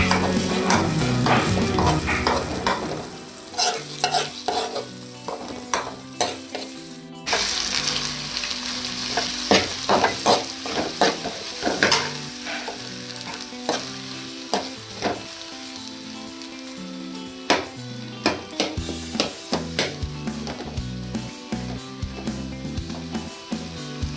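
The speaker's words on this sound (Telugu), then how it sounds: "ఇప్పుడు సిమ్లో పెట్టి కొద్దిసేపు ఉడకనిద్దాం." Eggs and onions cooking in a pan on low heat, a continuous close sizzle broken by many scraping and clattering strokes of a spoon stirring the pan, with no talking.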